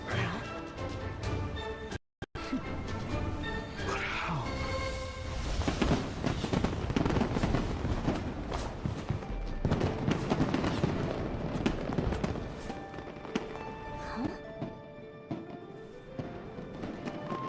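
Dense, continuous barrage of game fireworks, many overlapping pops and crackles, with a brief cutout near the start before the bursts swell and keep going loud for the whole stretch.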